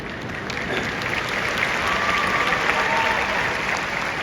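Clapping from a large audience at a Sadhguru live event in Delhi, a sustained, moderately loud wash of applause with no break.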